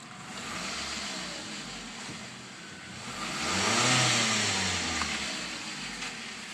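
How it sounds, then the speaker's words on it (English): A Ford Focus engine runs steadily nearby, its hum swelling briefly as if revved before settling back to a smooth idle. "the motor's actually running really good"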